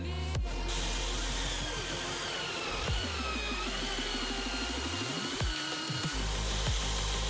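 A benchtop grinding disc on a tool table runs at a steady high whine, close and continuous, with dips and surges in pitch as the motor loads and spins back up.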